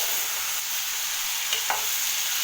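Vegetables stirred in a pan while cooking carrot fry with tomato and carrot, a steady sizzle under a couple of soft scraping strokes around the middle, close and moderately loud with no talk.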